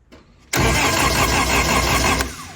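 An engine in an Austin-Healey Sprite, rebuilt and newly fitted in a barn-find car, cranks and catches abruptly when pulled over by its starter cable, then runs loud and steady, close by with no talk.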